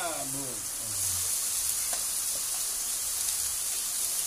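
Shrimp hit a hot pan for sautéed cabbage, a steady bright sizzle and hiss of frying with a voice speaking briefly at the start.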